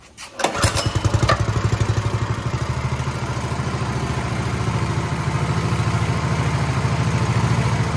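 A small gasoline engine with its governor removed starts up and settles into a loud, steady, fast-pulsing run close by, with no one talking.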